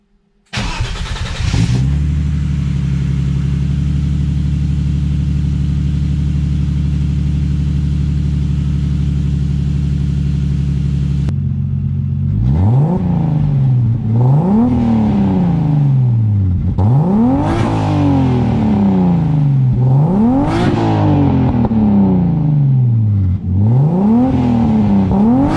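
Turbocharged BMW E30 with an M52 engine and turbo-back exhaust, idling loud and steady, then revved hard four times in rising and falling sweeps, close up with no talking.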